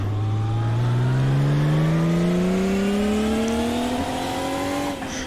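Drift car engine revving hard with the clutch in on a wet skid pad, a loud, close, steadily rising whine that climbs in pitch for several seconds before dropping off at the end.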